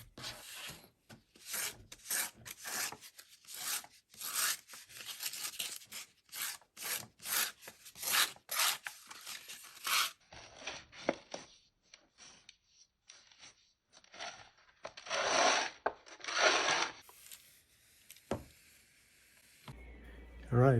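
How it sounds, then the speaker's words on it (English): A leather belt being sandpapered by hand, with rapid, repeated rasping strokes in bursts that pause and resume, close and moderately quiet, no talking. "Next, we're going to sandpaper."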